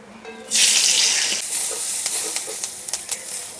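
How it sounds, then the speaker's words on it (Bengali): Capsicum hitting a hot pan for a mixed vegetable paneer dish, a loud surge of sizzling that settles into a steady close hiss with scattered spatula clicks and stirring scrapes. "ক্যাপসিকামগুলো ভেজে নেব, বেশি ভাজার প্রয়োজন নেই ক্যাপসিকাম।"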